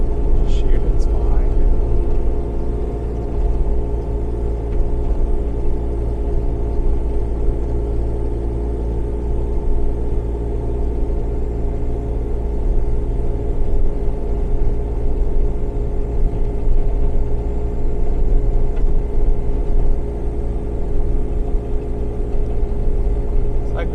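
A 2014 Bobcat Toolcat's engine drones steadily at a low, even pitch while it pushes snow through a drift, loud and close throughout, with someone talking over the motor.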